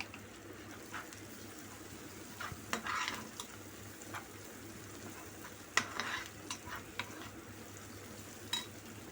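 Garlic ginger paste frying in oil, a soft low sizzle with intermittent scrapes and clinks of a spoon against the pan, fairly faint.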